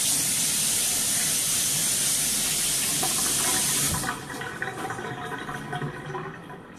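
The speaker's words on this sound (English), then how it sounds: "Let me just wash my hands." A tap runs in a strong hissing stream for about four seconds while hands are washed, then shuts off, leaving quieter drips and splashes.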